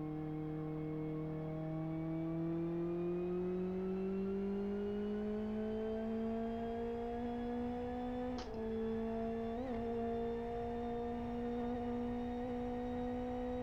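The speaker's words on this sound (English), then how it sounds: "Sounds like it's got a motorbike engine in this one." A race car in the Live For Speed racing game, with an engine that sounds like a motorbike's, drones at a high pitch and climbs steadily as it accelerates. Two brief gear-change blips interrupt the continuous loud whine.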